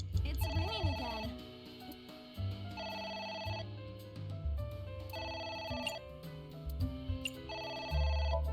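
Telephone ringing in a video game, sounding as repeated electronic ring bursts in a steady on-off pattern, with people talking over and between them.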